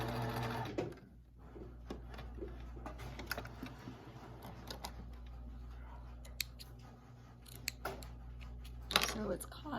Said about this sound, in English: I'm going to stitch close to the edge, making sure that I catch the fabric and the elastic